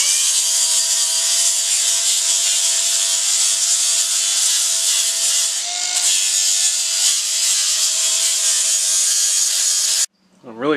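A belt grinder running a new 40-grit ceramic belt grinds steel on a hammer head, a steady, loud abrasive hiss and rasp that holds for about ten seconds before cutting off abruptly.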